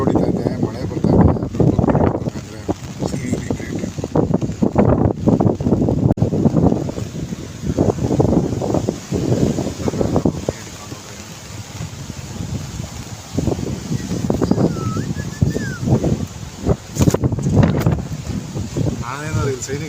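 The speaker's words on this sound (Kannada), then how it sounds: "ಈ ಥರ ಗಾಳಿ ಹೊಡಿತಾ ಇದೆ, ಮಳೆ ಬರ್ತಾ ಇದೆ." Strong wind at Bekal Fort in Kasaragod batters the microphone in loud, rumbling gusts that come and go, with rain in the air, over a constant close roar.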